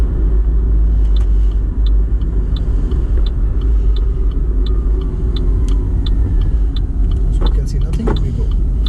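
A car drives along a road on a driving-test route with roundabouts, its engine and tyre rumble steady and loud throughout, with an instructor talking over it.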